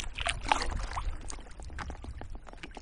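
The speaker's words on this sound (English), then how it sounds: "If I stop, you probably hear the wind now." Wind gusts over Coniston Water around a paused kayak, a steady rushing noise close to the microphone with faint lapping water underneath.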